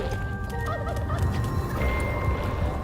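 Gobbling chicken creatures in the dungeon-building video game Dungeons 4, a run of quick warbling bird calls over a busy, steady game soundscape with clopping and ambient noise.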